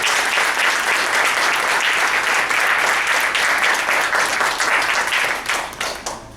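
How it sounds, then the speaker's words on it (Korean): Warm applause from a seminar audience welcoming a guest pastor to the stage; a dense, continuous wash of many hands clapping, loud and close, holding steady before tapering off at the end. "우리 뜨거운 박수로 청해 주시기 바랍니다"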